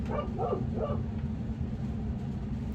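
A dog gives two or three short yips or barks indoors near the start, then stops, over a steady low background hum.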